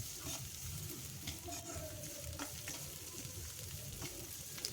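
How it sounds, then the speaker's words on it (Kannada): Crushed garlic frying in a pan for a chicken liver fry, a steady soft sizzle with occasional stirring scrapes, fairly quiet and continuous. "ಹೀಗೆ ಚೆನ್ನಾಗಿ ಫ್ರೈ ಮಾಡ್ಕೊಳ್ಳಿ"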